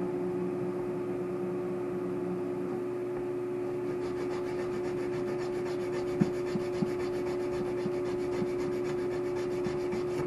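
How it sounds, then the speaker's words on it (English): Steady rubbing rasp of sandpaper on a small wooden violin repair part, continuous and close, with a faint hum underneath and a couple of light knocks near the end. "we're gonna sand it down a bit"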